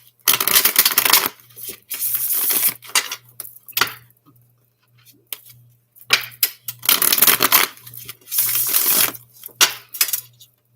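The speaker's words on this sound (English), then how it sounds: "Sorry, I'm not more entertaining when I shuffle, y'all." Cards being shuffled in quick riffling bursts, two long loud runs with shorter flicks and pauses between, close up with no talking and a faint steady hum underneath.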